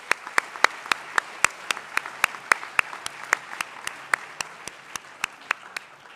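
A small group claps in a sparse, steady rhythm of distinct individual hand claps, fairly close and alone, after a school announcement honoring volleyball and soccer teams.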